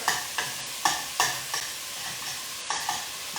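Ground Italian sausage sizzles in a pan as a utensil scrapes and breaks it apart, with repeated sharp scraping strokes over a steady frying hiss, close up, no talking.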